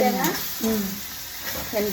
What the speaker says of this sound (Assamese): এতিয়া সেইপিনে বৰা ভাজি আছে চাগে